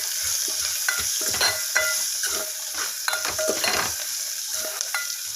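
Vegetables frying in a pan with turmeric and salt for a puri curry, a constant close sizzle broken by repeated scraping stirs and light clinks of a spoon against the pan, with no talking.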